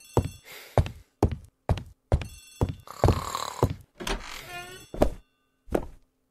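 Telephone ringing in a hall in The ABC Murders, sounding in repeated evenly spaced bursts with a denser ringing stretch in the middle, fairly close, with no talk over it.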